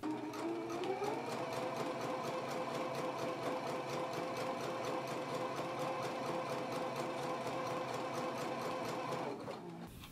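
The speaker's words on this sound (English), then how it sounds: "So let's go ahead and do our stay stitching now." A sewing machine stay stitches along the neck edge of a back bodice piece, running with a steady, even mechanical whir and rapid needle ticking for about nine seconds before stopping.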